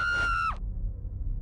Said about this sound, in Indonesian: aku langsung berteriak kencang dan jatuh tersungkur